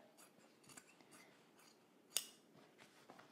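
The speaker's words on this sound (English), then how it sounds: "Now I'm just gonna take my scissors and literally just cut." Scissors cut through denim while a pair of jeans is remade into a skirt, giving a series of quiet, close snips with one sharper, louder cut near the middle.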